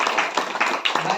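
A congregation clapping together at a church prayer meeting, several quick rhythmic rounds of hand claps, loud and close, with a voice mixed in.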